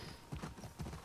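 A horse's hooves clip-clop faintly on the ground in The Last of Us Part II, with two soft, evenly spaced steps in quick succession and nothing else heard.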